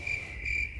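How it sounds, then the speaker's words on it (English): Crickets chirp in a steady, continuous high trill, close and fairly loud, with no talking over them. "Where's my crickets?"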